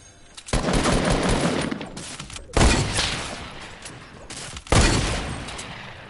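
Video game gunfire erupts in three loud bursts, each a sharp blast trailing into a sustained roar of rapid shots and noisy decay.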